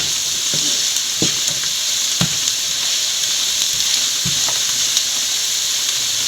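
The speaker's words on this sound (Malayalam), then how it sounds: "മല്ലിപ്പൊടി നല്ലപോലെ വഴന്നിട്ടുണ്ട്" Coriander powder frying in a pan over a low flame for rabbit ularthiyathu: a steady, bright sizzle throughout, broken by several dull knocks and scrapes of a spoon stirring, close and without talk.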